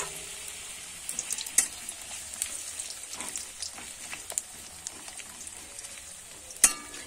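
Potatoes frying in the oil left from frying lentil dumplings, a steady close sizzle with scattered crackles and a few sharp pops, no voices.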